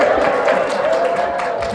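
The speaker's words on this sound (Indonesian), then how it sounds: "Ibu Daniel tepuk tangan tuh." An audience claps and murmurs during a religious talk, with continuous dense applause and crowd noise of steady loudness and no clear single voice on top.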